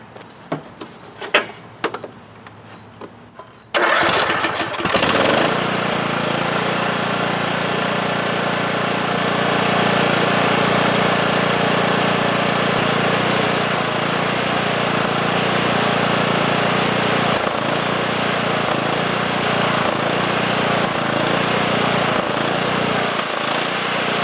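A lawn tractor engine, one that stalls after about thirty seconds, cranks briefly with uneven bursts and then catches into a loud, steady running roar that holds to the end.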